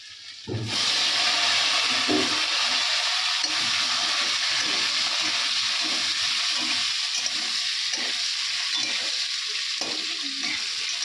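Boiled potatoes hit hot oil already holding white cumin, ginger and bay leaf, and a loud sudden sizzle starts and then carries on as a steady close frying hiss with occasional stirring scrapes.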